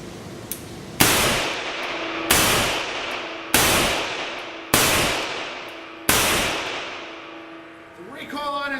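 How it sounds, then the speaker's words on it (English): Five loud double-action shots from an 1895 Nagant revolver ring out at an outdoor range, evenly spaced about a second and a quarter apart, each a sharp crack with a long decaying echo, followed by a brief rattle of handling. "The Nagant Revolver here, I'm going to fire 5 rounds in double action."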